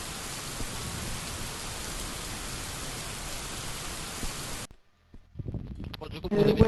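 Heavy rain in a roleplay video game, a dense steady hiss that pours on loudly for several seconds, then cuts off abruptly into near silence before game sounds and voices return.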